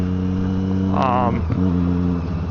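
A Triumph Street Triple 675 motorcycle engine drones steadily and then swells in one brief rising rev burst before settling back, loud and close under wind rush.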